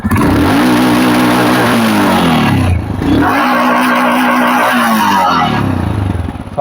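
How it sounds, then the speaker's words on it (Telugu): A Royal Enfield Himalayan 411 single-cylinder motorcycle engine starts and revs loudly up close, with two strong rising-and-falling throttle sweeps and a steady loud rumble throughout. "సో ఇప్పుడైతే మనం బండి సౌండ్ వినబోతున్నాం."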